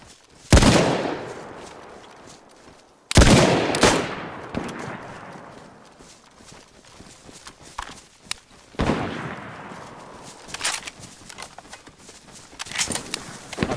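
Gunfire in the survival video game DayZ: three loud, sharp shots with long decaying echoes, spaced several seconds apart, followed by fainter scattered pops and clatter.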